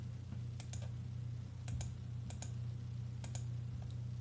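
Calculator keys pressed in quick clusters of sharp plastic clicks, several presses each burst, over a steady low electrical hum with no talking.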